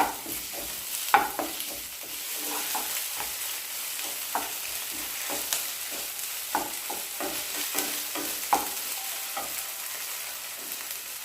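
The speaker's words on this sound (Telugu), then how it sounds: "అల్లం వెల్లుల్లి పేస్ట్ కూడా వేసుకొని పచ్చివాసన పోయే వరకు కలుపుకోవాలి" Ginger garlic paste sizzles and fries in a pan, with curry leaves already in, while a spoon stirs it and scrapes and taps the pan at irregular intervals over a steady hiss, close up and without speech.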